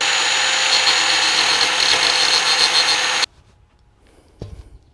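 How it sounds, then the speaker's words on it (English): An angle grinder fitted with a cutoff wheel cuts through metal plate with a loud, close, steady high-pitched whine that stops abruptly, followed by a faint clunk. "Grinder with a cutoff wheel."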